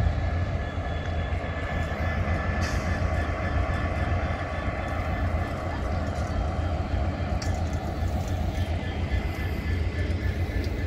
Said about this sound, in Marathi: बीडमध्ये प्रथमच ट्रेन आलेली आहे